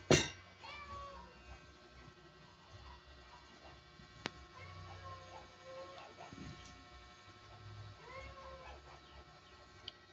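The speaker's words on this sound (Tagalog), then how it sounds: "Yung pusa namin yung pasaway." A pet cat gives a sharp meow at the start, then softer meows scattered through kitchen noise, with faint talk in the background.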